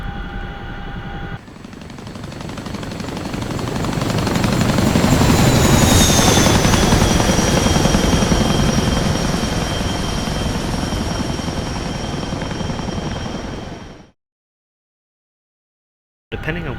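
CH-47F Chinook tandem-rotor helicopter in DCS flight simulation, heard as a loud steady rotor roar with a rising turbine whine, swelling to a peak and then holding before cutting off abruptly into silence.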